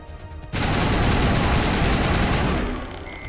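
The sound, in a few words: rocket fired and ricocheting in the Mass Effect video game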